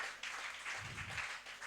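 A church congregation applauding during a Sunday service, a dense, steady wash of clapping lasting under two seconds with no voices on top.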